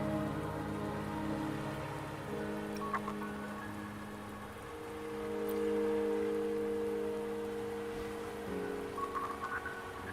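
Steady rain falls in the video game Wuthering Waves, a soft, continuous patter under a low background music drone.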